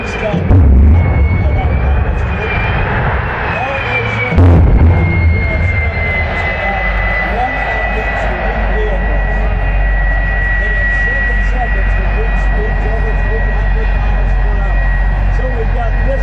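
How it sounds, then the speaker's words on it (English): Three-engine jet-powered school bus running at a Grand Junction air show, a loud continuous roar with a steady high whine and low rumble, surging near the start and again around four seconds, with an announcer talking. "We started to reintroduce jet-powered vehicles of all types"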